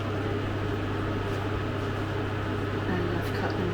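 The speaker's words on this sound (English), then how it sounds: "The microwave is just heating the rice" A microwave oven hums steadily while heating rice, a low constant drone with faint fan noise, quiet and unchanging throughout.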